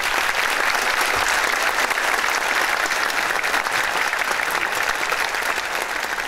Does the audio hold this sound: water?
no